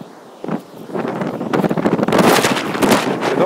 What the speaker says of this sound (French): sur le bord de la plage, vous ne m'entendez pas très bien, parce qu'il y a du vent